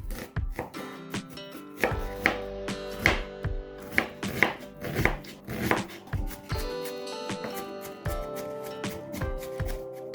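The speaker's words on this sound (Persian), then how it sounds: "1 پیاز بزرگم دارم که نگینی ریز خوردش میکنم" A large onion is finely diced with a knife on a board, with rapid, uneven chopping strokes that come in quick bursts and knocks, close and clear, with no voices.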